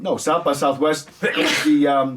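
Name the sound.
a sneeze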